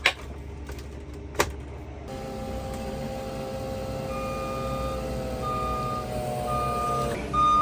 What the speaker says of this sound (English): It is a tad bit noisy here with all the forklifts and trucks and things going back and forth.